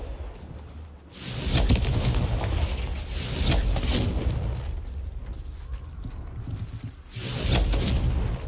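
A Bombarda spell exploding in a video game: several loud, close booming blasts with long rumbling decay, the first and last bursts strongest, swelling over a dull low background.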